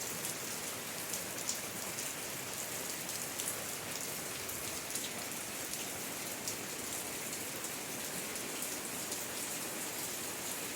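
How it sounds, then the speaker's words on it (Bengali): A steady drizzle of rain falls on a cloudy day, producing a constant soft patter of drops on surfaces, uniform in level throughout with no voices. "বৃষ্টির দিন অনেক ভালো লাগে কিন্তু বেশি বৃষ্টি ভালো লাগে না আজ সারাদিন বৃষ্টি"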